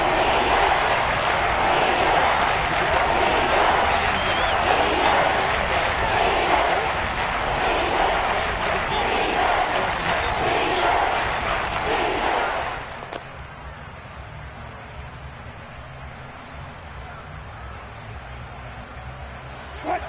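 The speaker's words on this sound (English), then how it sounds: "The crowd getting into it as we come up on a big 3rd down." A football stadium crowd roars loudly and steadily ahead of a big third down, then the noise drops off abruptly to a quieter murmur.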